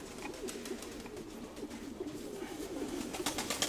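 Domestic pigeon, a prize breeding hen, cooing softly in a loft, low murmuring coos repeating steadily with faint background noise and no talk.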